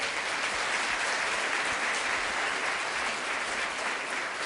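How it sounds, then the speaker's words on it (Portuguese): A church congregation applauds steadily and loudly, a dense, even wash of clapping that fills the room without a break and with no talk over it. "Aplauda o Senhor Jesus por isso."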